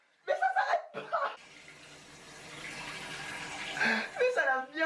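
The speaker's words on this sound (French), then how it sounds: "Tu tiens la chasse d'eau, il y a le robinet du dessus qui s'active." A toilet's bidet spray washing, a steady hissing rush of water that builds over a few seconds. Voices talk and laugh before and after.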